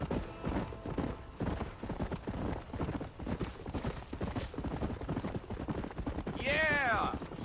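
Rhythmic hoofbeats of horses trotting in Red Dead Redemption, with voices talking over the clip-clop and a loud neigh near the end.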